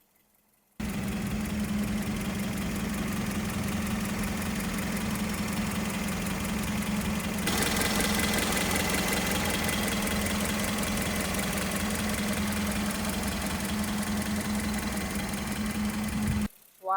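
A Toyota Starlet 1.0-litre three-cylinder carbureted engine idles close up with the hood open, a steady low hum under a fast, even ticking of the valves that carries on unbroken.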